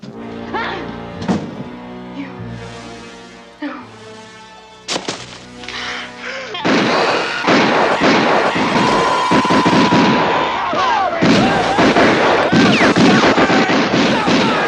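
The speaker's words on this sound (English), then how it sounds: "Stop firing!" Gunfire and artillery blasts in a horror or sci-fi movie trailer: sharp isolated shots early on, then a loud, dense barrage of booming explosions and rumbling fire filling the second half.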